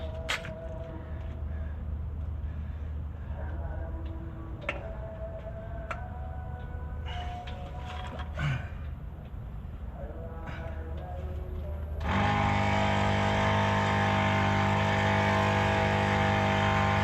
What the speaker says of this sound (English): I'm gonna put some air in the tire so I've got something to fight against.